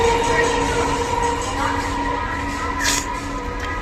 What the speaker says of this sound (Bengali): ট্রেনটা এখন বর্ধমান যাচ্ছে, আর এইটা বর্ধমান থেকে আসছে।